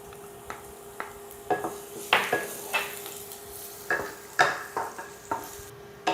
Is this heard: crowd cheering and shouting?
no